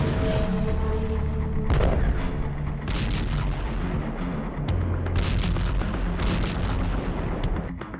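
Artillery fire and bomb blasts in the Russia-Ukraine war, a dense run of heavy booms and sharp reports rolling over one another for the whole stretch, loud and continuous with no talk.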